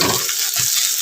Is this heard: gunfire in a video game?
no